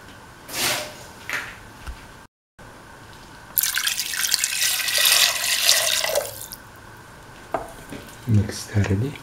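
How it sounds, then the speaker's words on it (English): Vermicelli pasta is poured into water and drained in a home kitchen, giving a burst of splashing, rushing water for a few seconds, with a few brief clatters before and after. "Now pour and drain them in the water."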